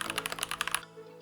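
Rapid keystrokes on a Machenike K600G mechanical keyboard, about a dozen quick, crisp clicks in a fast burst lasting under a second, up close, then stopping.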